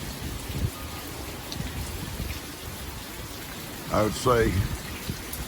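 Steady rain blown in by wind on an approaching storm, a continuous hiss close around the listener, with a voice speaking briefly near the end.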